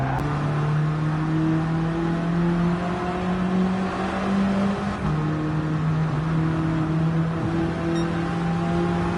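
Engine-swapped Alpine A110 in Gran Turismo 7 accelerating hard down a straightaway, a loud, steady engine drone rising in pitch through the gears, with a brief dip at a shift, alone without talk.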